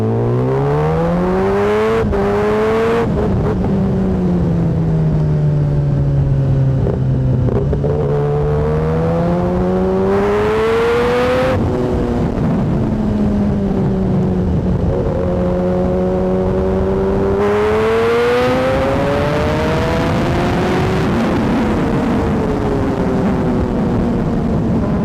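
Kawasaki ZX10R motorcycle with an Austin Racing exhaust revving loudly and close, engine pitch rising and falling through several long sweeps, with sharp blips between, no talking.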